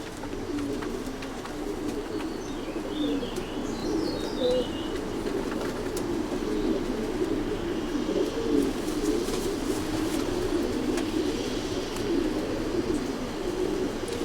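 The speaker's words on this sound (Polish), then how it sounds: "Gołębie z naszych super rodzin hodowlanych." Several racing pigeons cooing continuously nearby, soft throaty calls overlapping with a faint chirp in the background.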